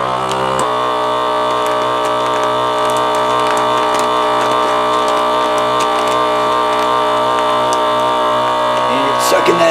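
A vacuum sealer pulls the air out of a mylar bag, giving a steady loud mechanical drone with a ticking, ratchety texture that holds unbroken for about ten seconds.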